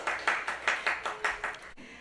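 Applause from a church congregation after a child is praised and given a gift, a run of about eight bursts of clapping in steady rhythm, fairly close, ending abruptly with no talk over it.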